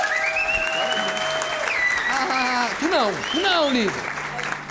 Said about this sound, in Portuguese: Vamos dar uma salva de palmas para os pais do Marquinhos.